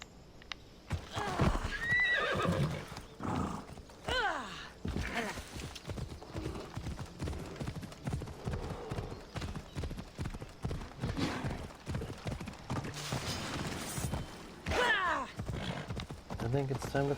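Hooves clip-clop in uneven bursts while a horse neighs and whinnies several times in Assassin's Creed Odyssey, with game-like effects and occasional background sounds mixed in.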